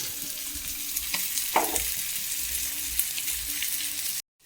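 Fish frying in a hot pan, a steady soft sizzle and crackle with a few louder spits and pops partway through, cutting off abruptly at the end.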